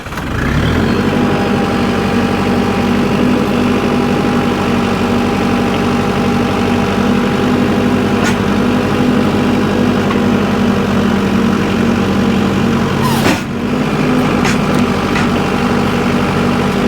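Tractor engine running steadily and loudly while the front-end loader raises its bucket, a constant low drone close by with a brief clunk near the end.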